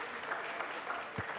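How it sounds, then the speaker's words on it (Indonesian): A symposium panel audience claps together, a brief, fairly soft burst of many hands applauding steadily. "Kita beri tepuk tangan untuk"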